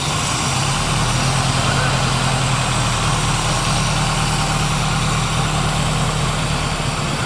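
A car engine that has sat unused for a long time idles with a steady, slightly uneven low rumble, close by and continuous, with no talk over it.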